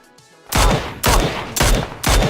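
Four sharp, loud shots from a Mini 14 rifle with a 4x scope in PUBG, fired at a target over 100 meters away, ring out at an even pace about half a second apart, each with a short decaying tail.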